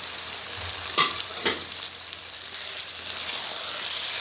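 Steady, close sizzle of chicken frying in a hot pan with garlic and ginger, with a couple of quick scraping stirs early on and no talking.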